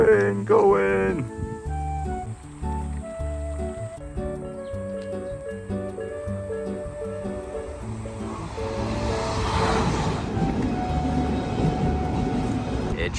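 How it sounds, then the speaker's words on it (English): A train rolls past in Japan, a steady low rumble with rhythmic clacking that swells into a broad rushing roar toward the end; a voice is heard briefly at the start. "Train going!"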